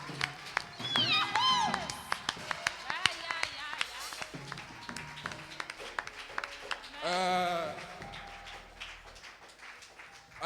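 A church congregation cheering and clapping for Jesus during a Sunday praise and worship service, scattered claps and shouts mixed with voices, with a brief swell of crowd cheering near the end.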